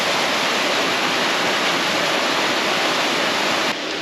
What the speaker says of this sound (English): this waterfall is named Caney Falls, as this is Caney Creek that flows into Caney Creek.